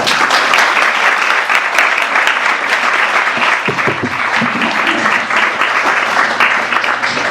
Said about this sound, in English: Let's please give a warm round of applause